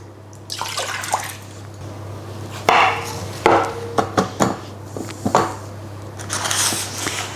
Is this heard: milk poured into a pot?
yes